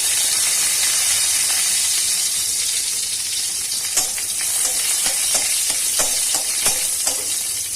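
Whole cumin seeds and two dried red chillies frying in hot ghee in a karahi, giving a steady close sizzling hiss with scattered sharp crackles and pops, no talking.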